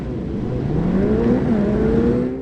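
Cross-kart buggies race on a sodden rally stage, an engine whining and rising in pitch as it accelerates past at close range, then fading slightly.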